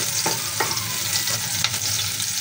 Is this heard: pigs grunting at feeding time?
no